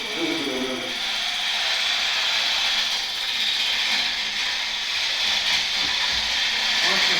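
A wood lathe spins a wooden vessel at about 1,000 RPM, giving a steady whirring hiss with a faint rhythmic ticking, close and continuous throughout.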